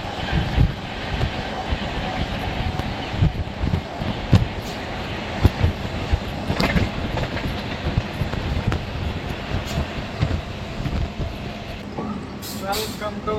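A long-distance express train hauled by a WAP electric locomotive rolls steadily past, a broad continuous rumble of wheels and wagons with rail clatter throughout, near and loud, with people talking over it.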